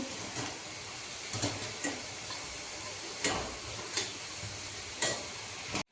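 Thinly cut potato french fries cook in hot oil with a continuous close sizzle, dotted with irregular crackling pops and ticks, with no voices.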